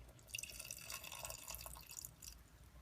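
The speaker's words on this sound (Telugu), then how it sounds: "ఆ తర్వాత ఇందులో కొద్దిగా నీళ్లు పోయండి." Water poured into a pan of simmering potato kurma with cashews, a soft continuous trickle with dripping splashes, faint and close, with no voices.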